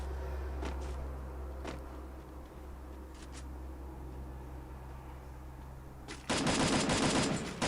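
Gunfire in Free Fire, with a few scattered faint shots over a low background hum, then a sudden loud rapid automatic burst near the end; no talk.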